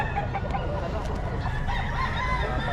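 Chickens and roosters at a Philippine poultry market, steady clucking and repeated crowing over a dense, continuous crowd din, with faint talk in the background.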